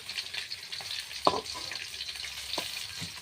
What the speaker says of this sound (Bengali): মাছগুলো আমি এখন উল্টিয়ে নিয়ে ভাজা ভাজা করে কিভাবে ভুনা করতে হয় শুধু মশলা দিয়ে আমি সেইটাই দেখাবো।